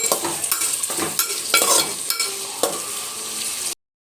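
Onions and a bay leaf are stirred in hot oil in a pressure cooker, with a loud sizzle broken by repeated scraping strokes and knocks of the spoon, and no voices, then abrupt silence at the end.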